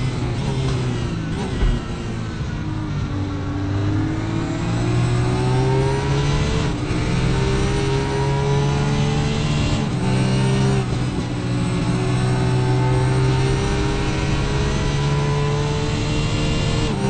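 Onboard race car engine in the RaceRoom sim during a two-hour Bathurst special event, a loud continuous drone whose pitch climbs and falls through gear changes for the whole stretch.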